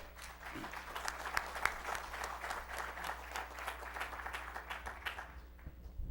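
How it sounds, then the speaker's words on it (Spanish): At a conference, the seated audience gives the featured woman presenter a round of applause, a dense, even patter of many hands lasting about six seconds before tapering off, heard at a moderate distance. "Un aplauso especial para ella, por favor."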